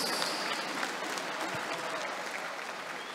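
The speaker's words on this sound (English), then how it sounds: "let us all give a big round of applause to our fighters" Steady applause from a boxing crowd for two super bantamweight fighters after a title bout, filling the whole stretch with dense, continuous clapping from many hands at fairly even loudness.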